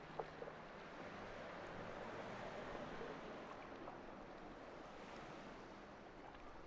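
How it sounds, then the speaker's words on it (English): Gentle water lapping and sloshing under a seaplane floating on water in a flight simulator game, a steady soft wash with light wind-like noise throughout, no voices. "They have water floating sound effects."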